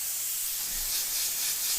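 An airbrush sprays paint as texture goes on, a steady close hiss running alone for a couple of seconds.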